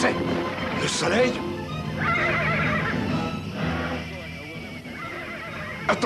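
A horse whinnies near the start, with more neighing and commotion mixed with voices and busy background noise throughout.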